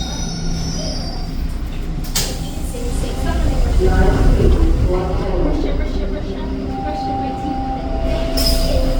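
A Toronto TTC Line 2 subway train arrives at Lansdowne Station. Its wheels squeal in loud, high-pitched bursts over the rumble of the rail cars, with a sharp hiss near the start and the end.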